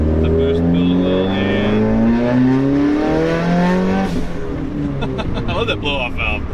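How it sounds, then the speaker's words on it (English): A modified 2017 Subaru WRX turbo revs loudly and climbs through the gears from inside the car, then lets out a brief blow-off valve release before the engine note drops back. People talk over the engine. "I love that blow-off valve."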